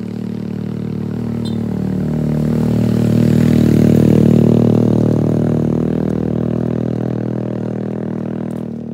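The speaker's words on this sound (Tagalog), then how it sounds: "May motor na naman pong aakyat." Motorcycle climbing a steep countryside road in the Philippines, its engine growl rising as it draws near and labours uphill, then easing away, with no talking.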